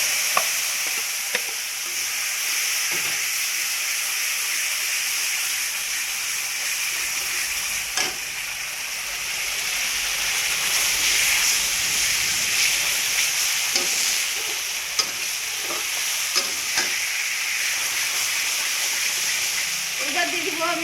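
Ginger, green chili and fennel paste frying in hot oil makes a steady bright hiss, with faint stirring clicks now and then.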